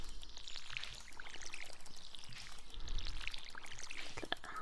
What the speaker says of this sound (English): I'm gonna have to water these.